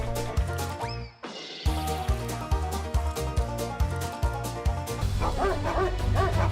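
A dog barks and yips in quick repeated bursts, loud and close, with a brief pause early on before the barking resumes steadily.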